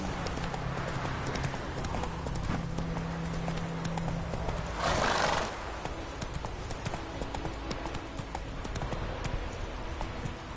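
The horse Roach trots in The Witcher 3, with steady rhythmic hoof clip-clops close by under a quiet ambient bed and a short whooshing burst midway.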